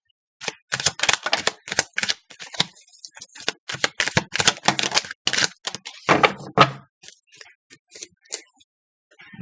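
Rapid papery riffling and soft slapping of tarot cards being shuffled, in quick bursts with short pauses, close by and with no talking.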